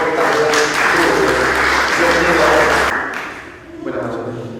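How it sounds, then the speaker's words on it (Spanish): Sustained audience applause at an evening awards event greets a speaker, a loud, full crowd of clapping that runs steadily, then drops abruptly near the end with lighter scattered claps trailing off. "Un fuerte aplauso para don Jorge Carrión Rubio."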